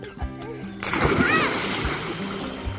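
A person jumps into water with knees bent, landing in a loud, close splash that gives way to a sustained wash and slosh, with voices calling out around it.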